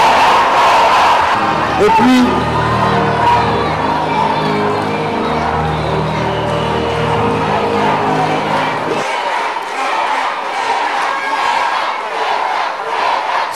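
A theatre audience at a Reine des Grandes Écoles 2015 pageant cheers and shouts loudly as contestants leave the stage. A low rumbling roar runs under the crowd for most of the stretch and then stops, while the shouting keeps going and a voice speaks briefly.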